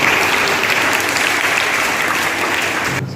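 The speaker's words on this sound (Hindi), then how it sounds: "जोरदार ताली से स्वागत करें।" Loud, sustained applause from an audience welcoming a speaker onto the stage at a National Sports Day celebration, a dense even patter of many hands clapping that continues unbroken before fading slightly at the end.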